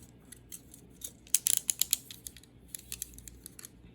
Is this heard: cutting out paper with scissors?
yes